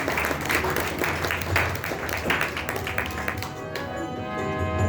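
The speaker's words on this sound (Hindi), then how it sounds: "एक बार ताली बजाइए इनके लिए भी।" An audience at a Hindu religious discourse on the Bhagavad Gita claps in steady, sustained applause that fills the hall, fading slightly toward the end.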